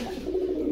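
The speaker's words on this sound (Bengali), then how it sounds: "একবার বেশি করে দুটো কবুতর কিনছি" Pigeons coo in a low, warbling burst at a pigeon shop in Bogura, heard close and alone for a brief moment.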